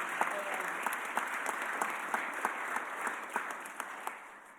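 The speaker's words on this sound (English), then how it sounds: "Give another round of applause for Angela Brooks." Audience applause at a mayor's press conference, a steady wash of clapping at moderate distance with a few sharper individual claps standing out, continuing without talk throughout.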